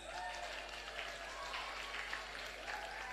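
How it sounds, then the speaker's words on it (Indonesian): An audience applauds at an Islamic boarding school gathering during a sermon, fairly soft and steady clapping that sounds a little distant, with a constant low hum underneath. "Tepuk tangan."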